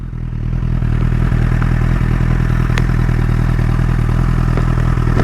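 A Honda CBR1000RR Fireblade SC59 superbike engine runs steadily close up, a loud, even mechanical rumble with faint ticking clatter throughout and no voices.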